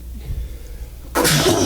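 A single sharp sneeze bursts out at the end after a short breath in, loud and close.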